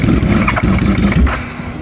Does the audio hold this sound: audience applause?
no